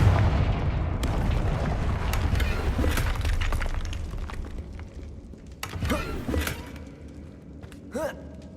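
A Confringo blasting spell in Hogwarts Legacy goes off with a loud booming, shattering explosion that rumbles and crackles as it fades, followed by a few sharper later cracks and debris sounds. There is no talk.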